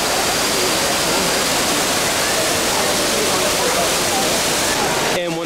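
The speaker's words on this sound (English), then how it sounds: "Really like all the water features on this round in the conservatory, including one based on falling water." Steady, full rushing of falling water from a water feature in the Bellagio conservatory in Las Vegas, loud and unbroken, cutting off abruptly at the end.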